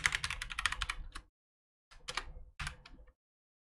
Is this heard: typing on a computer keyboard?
yes